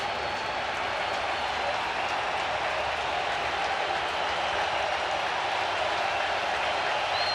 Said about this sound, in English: Crowd urging him on.